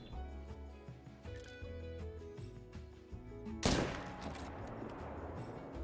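Rifle shots ring out in theHunter: Call of the Wild, a single loud crack partway through with a long echoing tail, over a quiet backdrop of lighter clicks and tones.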